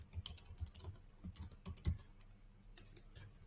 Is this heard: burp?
no